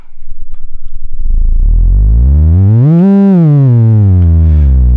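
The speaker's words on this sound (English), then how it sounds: "it becomes a sine wave" A pure electronic sine wave tone from a Eurorack filter used as an oscillator starts as rapid buzzing pulses, then glides up smoothly in pitch, peaks, and slides back down, loud and steady throughout.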